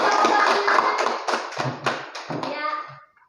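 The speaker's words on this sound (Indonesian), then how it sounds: "tepuk tangan semua" Schoolchildren in a classroom clap their hands in a short burst, loud at first then thinning into scattered claps before stopping, with a few voices mixed in.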